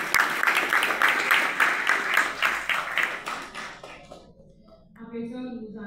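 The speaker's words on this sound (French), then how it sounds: "Je vous prie de vous applaudir et d'applaudir tous les représentants." An audience at an intergenerational prevention event applauds the representatives, steady loud clapping that fades out over several seconds into quieter room sound and a voice.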